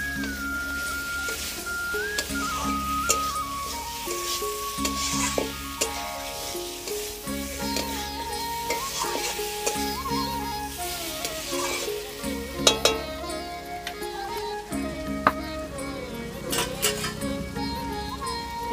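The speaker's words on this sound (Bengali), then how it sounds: "দিয়ে দেবো ভেজে রাখা মাছ, দিয়ে নেড়ে চেড়ে দেবো।" Fried fish being stirred in a pan for a fish curry, with a sizzle and scraping stirs heard under a loud musical backing track.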